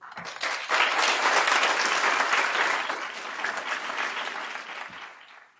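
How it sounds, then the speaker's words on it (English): Audience applause at a school board meeting, a loud sustained round of clapping from a crowd in a hall that swells quickly and then gradually fades over several seconds. "If we could hold our applause to the end, please."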